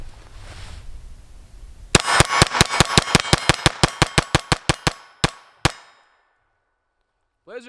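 Rapid string of about seventeen loud, sharp gunshots from a SIG P322 pistol firing CCI Blazer ammunition, evenly spaced at first, then slowing to a couple of final shots and silence, with a faint clink at the end.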